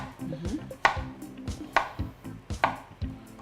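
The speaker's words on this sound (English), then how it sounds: "I like to cut my cucumber on a bias." A knife cuts an English cucumber on a bias against a cutting board in steady, crisp chops, four clear strikes about a second apart, close and clean with no talking.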